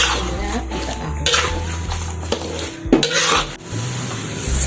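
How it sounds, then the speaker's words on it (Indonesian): A spoon stirs lemongrass, bay leaves, galangal, pepper, coriander and nutmeg in a pan for beef rendang, giving steady scraping and rubbing with a faint sizzle and occasional clinks. It sounds close and fairly loud, with no talking. "Kemudian kita aduk."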